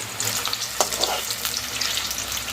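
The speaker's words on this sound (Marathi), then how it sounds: "तेल तापलेलं आहे त्याप्रमाणे आपण या फोडी तळून घ्यायच्या आहेत" Potato pieces deep fry in hot oil for achari aloo, giving a dense, continuous sizzle with scattered crackling pops, close and fairly loud.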